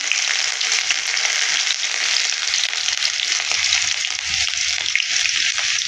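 Cumin, mustard seeds and green chillies fry in hot oil, giving off a steady, close, bright sizzle that holds evenly throughout with small crackles and pops.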